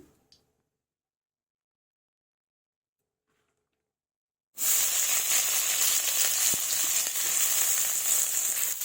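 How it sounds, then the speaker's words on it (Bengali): After several seconds of silence, chopped onion hits hot mustard oil in a wok, giving a sudden loud sizzle that continues steadily up close with a few crackles. "এবার কড়াইয়ে সরিষার তেল দেব"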